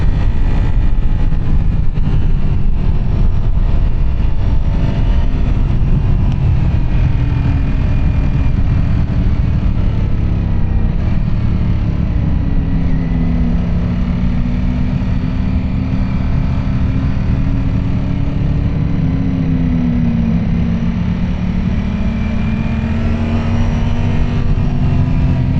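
A 2025 Ducati Streetfighter V4S motorcycle engine on the road, a loud, steady close drone with wind rush, the revs rising and falling gently through low gears for the whole stretch with no talking.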